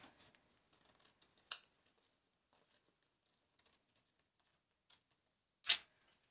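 Scissors snip business cards in a quiet room, two distinct close cuts separated by long near-silent gaps with faint small handling ticks.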